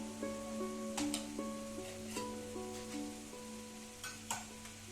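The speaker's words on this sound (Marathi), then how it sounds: "कोथिंबीर टाकून चांगली मिक्स करून घ्यायचे आहे." Coriander stirred into spicy cowpea pods frying in oil, a soft continuous sizzle with a few sharper scraping stirs, under a sustained tonal background hum.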